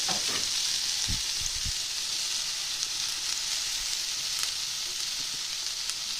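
Snake gourd and shallots sizzle steadily in a hot pan, a continuous close frying hiss with a few low clunks of stirring near the start and no talking.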